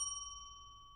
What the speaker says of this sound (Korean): 처음 30초가 지난 후 종소리 1회